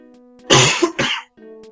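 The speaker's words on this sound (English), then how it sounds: "I could stop coughing, how about that?" A man coughs twice in quick succession, close and loud, with a brief throat-clearing edge, followed by a moment of quiet before faint background sound returns.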